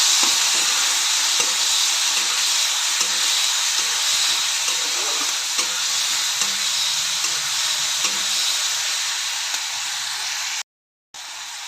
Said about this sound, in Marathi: त्यानंतर बारीक चिरलेला कांदा, टोमॅटो आणि कढीपत्त्याची पानं सर्व एकत्रच घालते यामध्ये. हे 1-2 मिनटं परतून घेऊया सर्व.